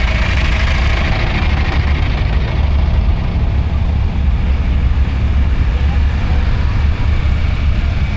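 A John Deere 3010 tractor at a vintage farm show rumbles steadily with a low, continuous engine drone, loud and close throughout, with crowd and outdoor noise mixed in.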